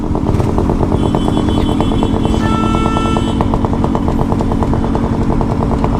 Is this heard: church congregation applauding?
no